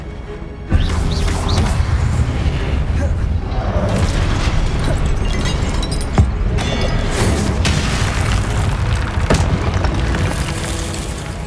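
Confringo blasting spell in the Hogwarts Legacy video game bursts with a heavy boom, followed by continuous rumbling combat noise, crackling impacts and further thumps.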